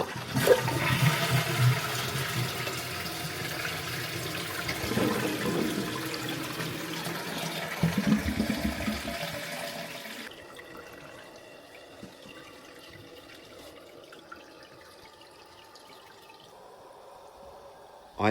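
A Grohe concealed cistern toilet flushes with a loud rushing surge that fades after about ten seconds into a quieter trickle and refill hiss, heard close indoors without speech.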